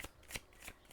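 Tarot cards riffled and shuffled by hand in a few quick soft bursts, close and quiet with no talking.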